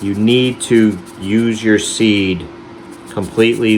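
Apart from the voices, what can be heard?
None of the usual background noises is heard.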